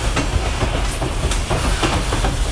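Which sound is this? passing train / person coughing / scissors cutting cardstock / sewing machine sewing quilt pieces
passing train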